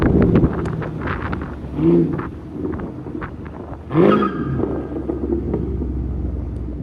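A car engine revs up and down in surges, rising loudly twice, with wind buffeting the microphone throughout.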